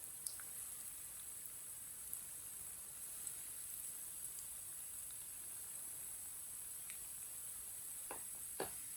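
Aloo tikki patties fry in hot oil, giving a faint, steady, even sizzle with a few small pops and crackles scattered through, quiet and without voices.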